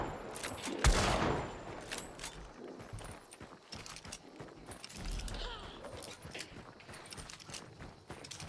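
Video game gunfire crackles through the first seconds in a burst of shots, followed by quieter clatter and scattered game sounds while players talk over it.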